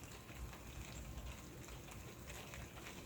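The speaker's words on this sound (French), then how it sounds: "La pluie tombe." Faint, steady rain falling outdoors beside a river during a carp-fishing session, a soft continuous patter with a low rumble underneath and no voices.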